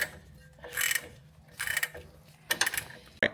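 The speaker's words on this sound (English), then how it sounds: "We've got the nut off. It's a nylock." A nylock nut being undone on the front shock absorber of a Range Rover Classic, heard as close ratcheting bursts in three or four short runs with brief pauses between them.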